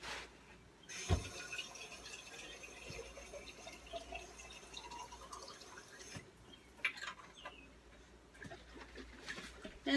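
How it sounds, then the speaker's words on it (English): Tap water running steadily into a jar during home goulash cooking, a continuous splashing fill with a few sharper drips and clinks, fairly faint and close, with no talking. "we're going to fill this jar up with water"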